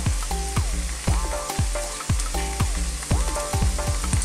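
Bean sprouts stir-fried in a hot wok with vegetables and spring onion, a steady loud sizzle broken by repeated rhythmic scrapes and clanks of the spatula against the metal, with no talking.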